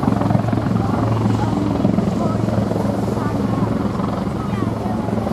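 Display team aircraft fly vertically at an air festival, a loud continuous engine roar heard from the ground with wind buffeting over it and no clear break throughout.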